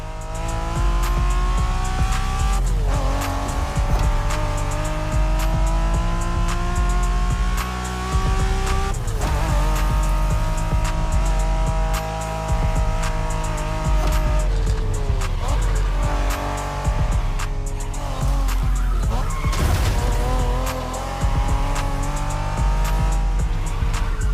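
Acura NSX sports car in The Crew Motorfest roaring through gear changes with a loud sustained engine note, rising and falling revs and repeated tire squeals as it skids.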